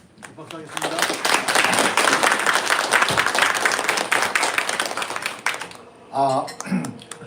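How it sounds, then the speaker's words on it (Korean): A church congregation applauds at a Sunday worship service in Korea, a dense, loud wave of clapping lasting several seconds before fading, followed by a brief voice. "박수하겠습니다."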